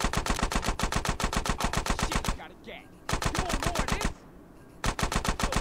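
Submachine-gun fire in GTA San Andreas Definitive Edition: rapid, loud bursts of evenly spaced shots, broken by two short pauses where distant shots and faint game noise fill the gaps.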